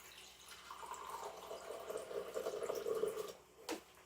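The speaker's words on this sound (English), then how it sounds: "So I'm gonna add a half a cup of water maybe" Water being poured into pancake batter in a home kitchen, a faint, soft trickle building for a few seconds before stopping, followed by a brief knock.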